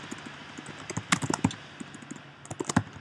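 Fingers typing on a computer keyboard, a scattered series of clicky keystrokes in small irregular clusters, close and fairly quiet, with no voices.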